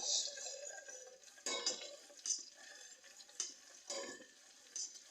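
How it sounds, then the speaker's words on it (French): A utensil scrapes and clinks in a pan of crushed garlic and oil stirred over low heat, with repeated faint strokes and a soft sizzle underneath. "À feu doux, nous allons donc remuer le mélange"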